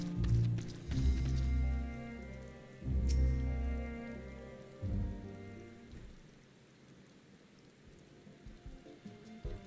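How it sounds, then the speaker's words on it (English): Steady rain in the video game Final Fantasy XIV: Endwalker patters beneath a few heavy low thuds and rumbles, the drizzle continuing softly after the louder bursts fade. "And it's raining all of a sudden."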